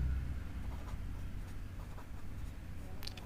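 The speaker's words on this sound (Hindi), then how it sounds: "तो चलिए इसके बारे में थोड़ा सा हम लिख लेते हैं।" Notes being written during a physics lesson: soft, faint scratching strokes over a low room rumble, with no talking.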